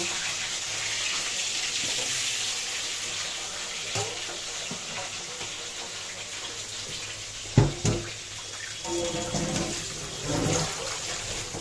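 A plate rinsed under running tap water in a home kitchen, a steady broadband water rush throughout with a few clatters of the dish near the end, and no talking.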